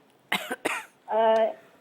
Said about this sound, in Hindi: आपको खांसी हो रही है?